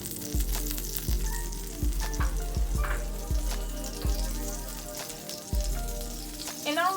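Butter melts in a hot pan on the stove with a steady, close crackling sizzle. Sharp pops and spatter ticks come through at irregular intervals, and there is a brief scrape near the end.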